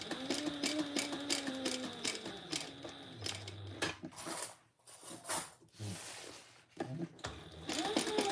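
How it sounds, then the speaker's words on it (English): A home sewing machine back stitching with black thread runs in quick mechanical bursts with brief pauses, fairly close and steady, with faint talk around it. "I'm just back stitching."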